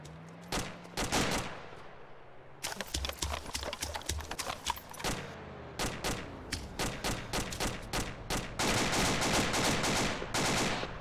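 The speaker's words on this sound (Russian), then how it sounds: "А вот и стрельба." Gunfire in the military game ArmA 2 with the ACE mod: sharp cracking shots in irregular bursts and rapid volleys, fairly faint and distant, with spells of quiet between them.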